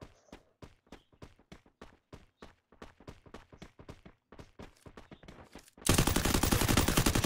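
Free Fire Clash Squad match gunfire: a long string of evenly spaced sharp single shots, then a dense, loud rapid burst near the end.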